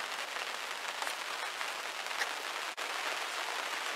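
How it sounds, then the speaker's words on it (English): Rain falling outside a polytunnel, a soft, even hiss of drops spread across the whole moment, fairly faint, with a brief dip near the end and no talking. "So as the rain's coming down,"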